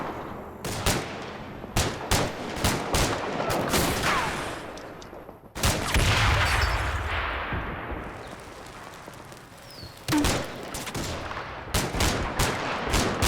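Battle from the Combat Mission: Cold War video game: dense bursts of rapid gunfire and automatic weapons crack repeatedly, with a heavier grenade blast rumbling midway before the shooting resumes in sharp volleys.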